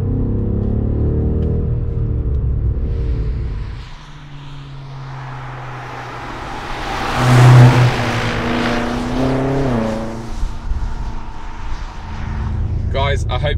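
An AC Schnitzer ACS8 Sport, a 720 bhp BMW M8 Competition Gran Coupe, accelerates with a loud, close engine drone that swells into a surging rev midway, then settles back to a steady hum.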